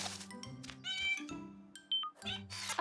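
A cartoon kitten meows several times in high, bright, drawn-out cries, close and clear, mixed with cartoon sound effects and a bit of talk.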